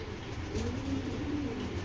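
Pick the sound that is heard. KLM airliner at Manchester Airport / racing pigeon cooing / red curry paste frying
racing pigeon cooing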